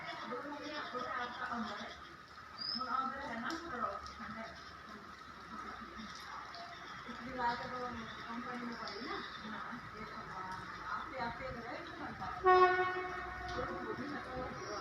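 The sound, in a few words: train on the Kalka-Shimla railway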